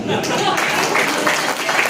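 Dense, steady applause from a live audience at a clean family stand-up comedy show in Burari, Delhi, filling the whole stretch as a continuous wash of clapping with a voice faintly mixed in.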